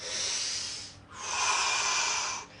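Audible breathing during a chair yoga session: one long drawn breath followed by a stronger, airy, hissing exhale, close and fairly quiet.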